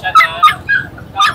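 A Pomeranian whimpers and yips in short, high, nasal bursts at a pet market, four quick cries that sound close and loud.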